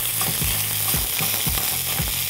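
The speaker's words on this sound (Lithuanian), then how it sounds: "pilame į keptuvę alyvuogių aliejaus ir dedame vištienos kulšelės." Chicken drumsticks fry in olive oil in a skillet with a constant loud sizzle, punctuated every half second or so by soft low knocks as the pieces shift in the pan.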